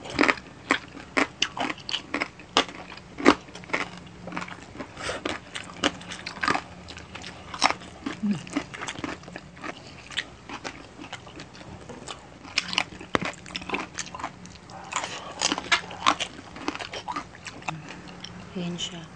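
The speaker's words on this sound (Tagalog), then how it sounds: "May unang kagat tayo ngayon." Crispy lechon belly pork being bitten and chewed up close, with dense crackling crunches and sharp ticks in an irregular stream throughout and occasional soft speech between bites.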